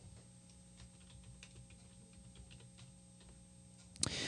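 Soft, quiet clicks of typing on a computer keyboard tap in an irregular rhythm on a Windows Vista computer. A louder clatter comes right at the end.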